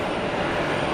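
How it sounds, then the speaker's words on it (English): Airbus A350 in Swiss livery passing over Zurich Airport, heard as a steady, loud broadband engine roar that fills the whole second without any break. "In a few minutes, the A350 is coming over. It's coming Swiss livery."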